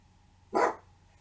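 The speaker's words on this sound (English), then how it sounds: "sorry about my dog." A single sharp dog bark rings out close by, brief and loud against a quiet indoor background.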